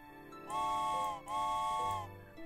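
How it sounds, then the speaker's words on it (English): Toy train whistle from a train-building video game, sounding as two sustained harmonic toots in quick succession, loud and steady, with a short gap between them and no talking. "Oh, that whistle, just the whistle,"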